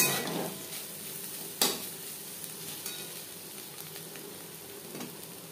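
Fried teasel gourd with grated coconut and slit green chillies is stirred in a pan, a soft continuous sizzle broken by a few sharp spatula scrapes, quiet and without talk.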